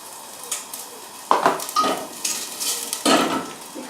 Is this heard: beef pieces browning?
yes